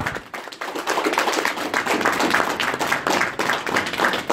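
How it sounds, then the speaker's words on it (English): A crowd at a talk gives a round of applause, with dense, irregular clapping that stays fairly steady and moderately loud throughout, heard without any voices. "Big round of applause for him."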